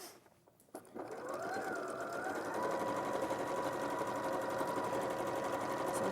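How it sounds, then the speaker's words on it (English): A sewing machine runs steadily along a normal seam, starting after a short pause and settling into a continuous, close, fairly loud whirring hum with no voices over it. "So I'll just sew all the way down."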